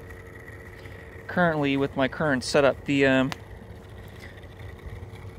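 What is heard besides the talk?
3D printed Chrysler siren replica idling, rotor spinning and scraping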